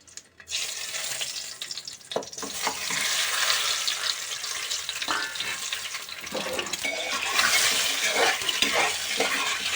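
Boiled eggs frying in hot oil in a kadai, a steady hissing sizzle that starts after a brief quiet moment and swells louder toward the end, with faint stirring clatter now and then.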